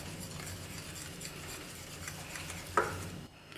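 Banana cake batter with cinnamon powder is stirred in a bowl, giving faint, soft scraping and a few light clinks against the side, quiet and close with no voices.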